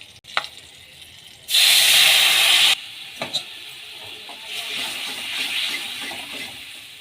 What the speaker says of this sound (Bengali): সরষে আর কাঁচা লঙ্কা এটা জলে গুলে নিয়েছি। এবার এইটা তেলে ছেড়ে দেবো।